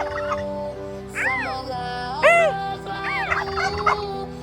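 Turkeys at a bird park gobble in several rapid warbling bursts, close and fairly loud, over a steady background hum.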